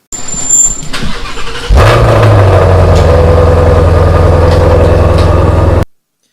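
A 2020 Ford Mustang Shelby GT500 engine fires up close by, its deep rumble jumping in abruptly after a few seconds of quieter background, then holding a loud, steady, throaty idle until it cuts off.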